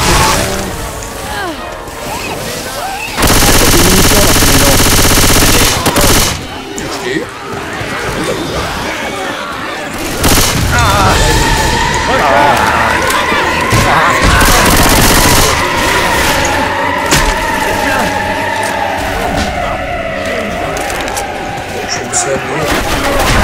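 Sustained gunfire rattles in Left 4 Dead 2, loud, dense bursts and steady automatic fire filling most of the stretch, with game noise and background shooting between volleys.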